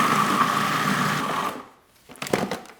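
A blender whirs loudly as beans and other ingredients for Oaxacan bean toast are spun into a creamy paste, running steadily for about a second and a half before cutting off, followed by a few soft clunks.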